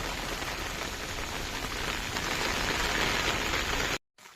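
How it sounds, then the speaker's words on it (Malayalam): Steady rain pours on a sheet-roofed house along a flower-lined path in Kerala, a dense unbroken hiss that cuts off abruptly near the end. "മഴയാണ് പെയ്യുന്നത്"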